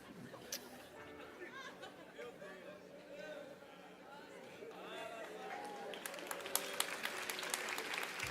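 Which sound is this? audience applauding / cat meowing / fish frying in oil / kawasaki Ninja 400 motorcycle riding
audience applauding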